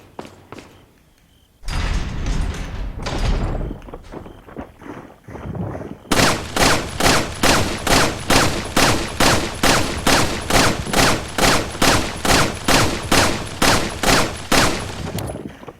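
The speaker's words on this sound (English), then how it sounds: "I'm gonna go back real quick and I'm gonna shoot that thing." Gunfire in Resident Evil 4 on Professional mode: a few scattered heavy shots and thumps, then a rapid, evenly spaced burst of loud, close shots hammering on for about ten seconds.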